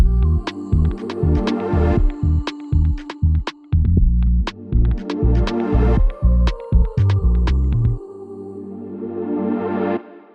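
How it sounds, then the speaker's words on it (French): A hydroelectric turbine in a building at the Serre Chevalier ski resort gives a loud, deep throbbing hum that pulses in an uneven rhythm with sharp clicks, then settles into a steadier drone. "je vous invite à découvrir tout de suite notre turbine hydroélectrique"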